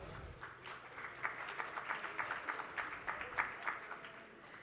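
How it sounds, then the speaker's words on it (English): An audience at a finance summit applauds a speaker being welcomed on stage, a fairly faint, distant patter of clapping with irregular swells, continuing steadily over a few seconds. "Please join me in welcoming him with an applause."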